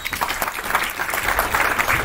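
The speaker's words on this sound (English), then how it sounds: "Clap करो सब उसके लिए." Audience applause at the inauguration of a student committee at Jabalpur Engineering College, honouring the graphics team: dense, steady clapping from a crowd that keeps going throughout.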